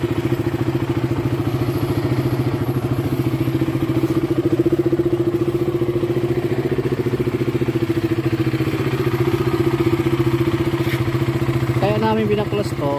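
A KTM Duke 200 motorcycle engine runs at a steady, loud idle with a throbbing mechanical clatter, and a voice speaks over it near the end.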